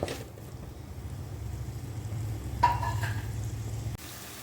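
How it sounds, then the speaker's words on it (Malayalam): Paneer coated with salt and Kashmiri chilli powder frying in a kadai, giving a steady low sizzle throughout with a brief scrape of stirring partway through. "ഇതൊന്ന് ഒന്ന് ഒരു ലൈറ്റ് ബ്രൗൺ ആവുന്ന പോലെ നമുക്ക് ഒന്ന് ഫ്രൈ ചെയ്തെടുക്കാം"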